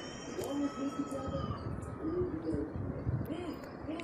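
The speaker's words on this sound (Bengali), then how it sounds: "আমার বাসার পাশে এরকম অনেকগুলো কবুতর, দেখতে খুব সুন্দর লাগে" Pigeons cooing beside a house, low murmuring coos repeating over a busy background of traffic-like noise and faint chirps, the birds fairly close but partly masked.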